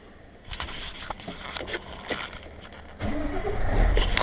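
A truck engine cranks and catches, then idles and builds into a louder, steady rumble as it pulls away, close and clear with no talk over it.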